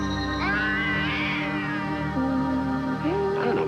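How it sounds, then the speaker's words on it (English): A cat being held tightly meows and yowls in a cartoon, drawn-out wailing cries rising and falling continuously over a steady background hum. "Hold on to that cat good and tight now, Larry."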